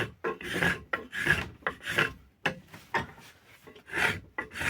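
Hand tool shaving wood from an ash axe handle, a series of repeated rasping strokes, close and fairly loud, each pass followed by a brief pause.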